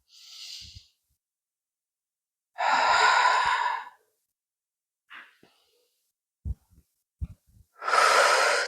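Several deliberate breaths during a chest mobility exercise, with long, forceful exhales separated by silence and small clicks and rustles between them, close to the microphone.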